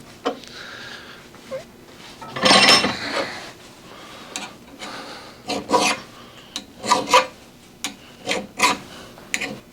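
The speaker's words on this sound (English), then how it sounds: "We're going to give our pocket knife a knife sharpening, a quick sharpening while we're at it." Quick sharpening of a pocket knife blade bevel: irregular bursts of rasping strokes, a long loud pass near the start then several shorter scrapes spaced apart, close and with no talk.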